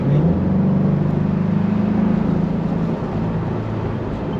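A Corvette C8 with a naturally aspirated V8 pulling hard on the road, its deep engine drone steady and loud from inside the car, easing slightly near the end.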